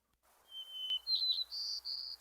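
A large, bulky warbler sings a short, clear song of thin high whistled notes, starting with one drawn-out tone and moving into a few brighter phrases, close and alone.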